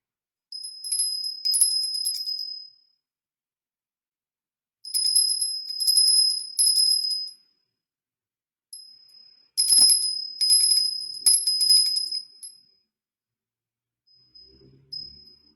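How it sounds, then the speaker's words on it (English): A small ritual bell is rung in three separate bursts, each a bright shimmering jingle lasting a couple of seconds and fading into silence, clear and close with no voices. "As you hear the sound, feel the vibration of the bell ring through your energetic bodies"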